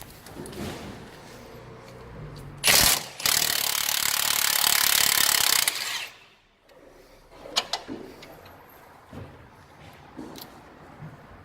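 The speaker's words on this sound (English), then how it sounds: "That's an 18 socket. I'm just going to get an 18 spanner." Tools working on the front strut bolts of a 2006 Fiat Punto with an 18 mm socket and spanner, including a loud sustained grinding burst of about three seconds, then scattered clicks and knocks up close.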